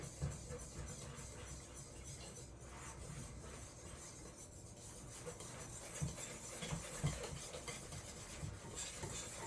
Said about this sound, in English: Whisk it. Whoa! Whisking it in.